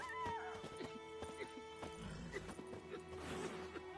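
Geralt's horse Roach from the video game The Witcher 3, with a whinny and clip-clopping hooves, close and moderately loud, followed by scattered in-game clatter and voices.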